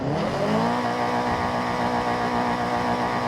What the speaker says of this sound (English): Now you should see the shift light change to red once you max out your RPM.